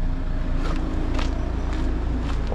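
Camping car reversing up beside a parked car, its engine a steady close low rumble with a few soft knocks and shuffles over it, no talk.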